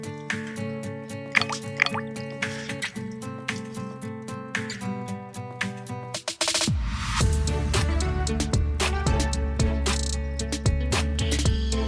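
Boiled young khilek (cassia) shoots being squeezed out by hand, sending a rhythmic run of dripping and splashing water that turns into a steady heavier trickle and pour partway through.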